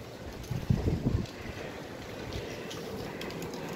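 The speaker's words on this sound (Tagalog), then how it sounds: "Mahangin." Low, rumbling wind buffets the microphone in gusts near the start, then settles into a steady outdoor whoosh.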